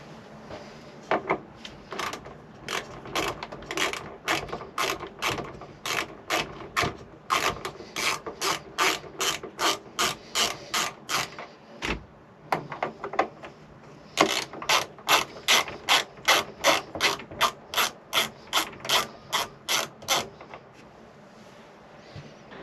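Rapid ratcheting clicks from a screwdriver backing out T20 screws on a caravan roof vent, many evenly spaced bursts in two long runs with a short pause between, close and clear with no talking.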